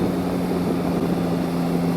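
A Yamaha Tracer 9 GT's inline three-cylinder engine drones steadily and loudly at a constant pitch while riding a winding mountain road, a continuous buzzing hum with no talk.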